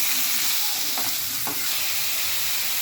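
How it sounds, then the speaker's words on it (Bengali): Potato and ridge gourd pieces frying in a pan with salt and turmeric for a fish curry, giving a steady close hiss of oil with a couple of short scrape-like stirring sounds. "এবার সবজিগুলো ভালো করে ভেজে নিব।"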